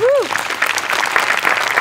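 A short burst of audience applause, dense and steady clapping close by, following a brief bright tone at the start.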